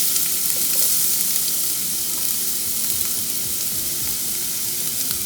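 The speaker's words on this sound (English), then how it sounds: "throw in about one onion chopped up" Chopped onion fries in hot canola oil in a pan, making a continuous close sizzle with occasional soft stirring sounds, heard alone.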